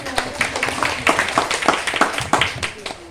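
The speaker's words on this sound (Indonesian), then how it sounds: "Tepuk tangan dulu" Students and a teacher in a primary school classroom clap in a brief, uneven burst of separate sharp claps, mixed with voices.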